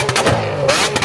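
A V12 engine runs loud and close at idle, a dense, smooth burble of overlapping firing pulses with slight swells in level and no voices.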